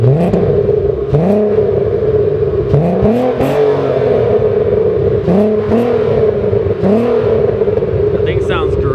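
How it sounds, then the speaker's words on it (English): Warmed-up VR6 engine, a 2.8L or 3.2L, revved in a series of sharp throttle blips that rise and fall in pitch several times over a steady, loud idle, with no one speaking. "give me a few revs and this is warmed up now"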